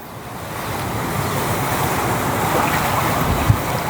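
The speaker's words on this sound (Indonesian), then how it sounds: "tuh drainasenya meluap ya teman-teman" An overflowing drainage channel clogged with trash pours floodwater onto a street after heavy rain, a steady, loud, close rushing roar that holds constant with no talk.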